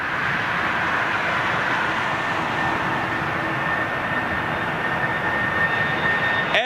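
An Air Mauritius Airbus A380 jet airliner passes overhead at sunset, producing a loud, steady, broad jet-engine roar with a faint whining tone that holds throughout, with no talking.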